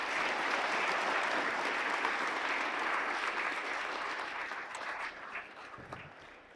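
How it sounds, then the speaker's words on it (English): An audience at a school Veterans' Day assembly applauds three seniors, a dense, steady wash of clapping from a large crowd that gradually softens toward the end. "Let's give them a round of applause"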